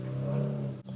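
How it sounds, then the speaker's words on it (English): A loud car with a noisy muffler passing outside, its steady low rumble sustained throughout with a brief dip near the end. "Do they have to be so loud with their cars? I can't stand when cars have like a super loud, it's called muffler, I think."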